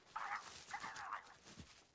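A puppy gives a few short, faint yips and whimpering barks in two brief bursts, followed by a soft thump, with no speech over it.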